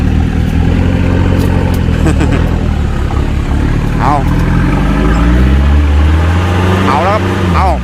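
A heavy dump truck engine labours while stuck deep in mud, a loud low steady rumble with surging revs, while someone talks over it up close.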